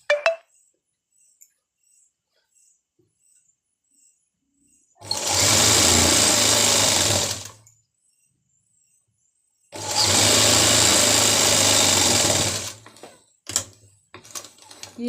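A sewing machine stitches a circular palazzo in two long bursts of rapid whirring, each a few seconds, separated by near-silence and brief clicks of handling the fabric, close and clear with no talking.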